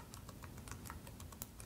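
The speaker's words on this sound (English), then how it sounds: "And now I'm going to type" Keys on a computer keyboard are typed in a quick, irregular run of soft clicks while a web address is entered, faint and close, with no one talking.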